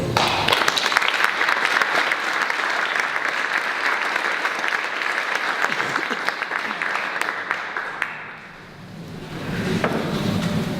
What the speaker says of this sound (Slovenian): tako da en aplavz tudi za vse